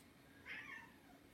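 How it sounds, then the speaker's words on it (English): A house cat gives one short, faint meow indoors, briefly rising above a low background hum. "I'm not sure if you could hear my cat meowing"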